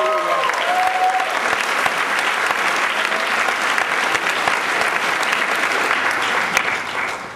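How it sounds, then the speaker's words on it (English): Keynote audience applauding teachers, a dense, steady wash of clapping that holds loud and even for several seconds before easing slightly at the end. "Give your teachers an applause for it."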